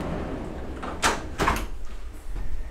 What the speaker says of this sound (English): Always in Japan, you have these sliding doors.